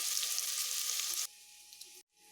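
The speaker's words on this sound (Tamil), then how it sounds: "இது பொன்னிறம் வர வரைக்கும் வதக்கிக்கோங்க" Onions sauté toward golden brown for chicken biryani, a loud continuous close sizzle that suddenly drops to a quieter hiss partway through, then cuts out briefly before resuming faintly.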